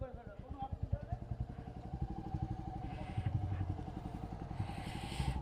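Two motorbikes on the road with a steady, pulsing engine putter and clattering thumps, fairly faint and continuous, with a faint voice at times.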